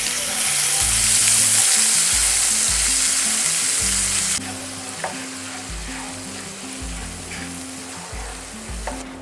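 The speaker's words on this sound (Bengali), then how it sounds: "জাস্ট 30 সেকেন্ড ভেজে নিয়েছি।" Ginger paste frying in a pan on low flame, a loud continuous sizzle close by, with a sharp drop partway through and then quieter crackling and a few stirring clicks.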